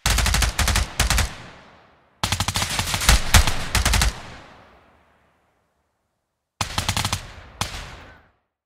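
Automatic gunfire from the tactical shooter game Ground Branch crackles in loud, rapid bursts, with long decaying echoes between volleys and a stretch of silence before two final bursts.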